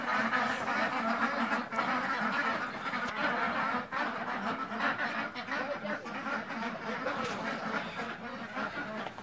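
Ducks quack steadily in a snowy farmyard on the first snow of December, a dense, continuous flock chorus close by with faint voices in the background.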